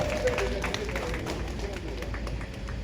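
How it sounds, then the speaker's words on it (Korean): Applause from a crowd of union members at an outdoor bus workers' rally, greeting a branch leader: dense, steady clapping at a moderate distance, with crowd murmur beneath it. "동지들 힘찬 박수 부탁드리겠습니다"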